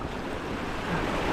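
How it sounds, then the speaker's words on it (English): Winter sea swell breaking at the shore during a bass fishing session, a steady close wash of surf with wind buffeting the microphone, growing slightly louder toward the end. "It's a lovely swell at the moment as well"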